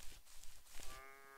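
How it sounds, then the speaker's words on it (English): Cow mooing in the video game Minetest, a short low moo that rises into a sustained tonal call near the end, heard alone and fairly quiet. "Mr. Moo Cow."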